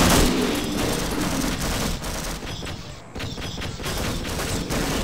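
Half-Life video game combat with rapid gunfire and a grenade blast, dense overlapping shots and booms filling the clip loudly with little pause.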